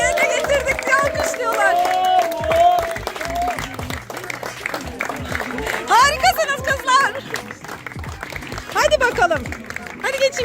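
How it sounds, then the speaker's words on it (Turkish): A group claps and applauds in a busy, crowded space, with children's and adults' voices talking and calling out loudly over the steady clapping throughout. "Bak orada alkışlıyorlar."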